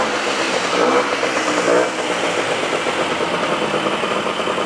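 A 1980s Honda Lead NH125 scooter engine idles steadily up close, a continuous mid-pitched buzzing putter that stays loud and even throughout with no talking.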